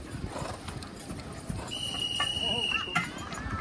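Draft horses Lynn and Bud at a horse pulling contest at the Wyoming County Fair in Pike, New York, with hooves clip-clopping over crowd murmur, then a long bright whistle and a brief whinny-like call.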